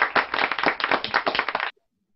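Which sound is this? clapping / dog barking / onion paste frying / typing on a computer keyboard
clapping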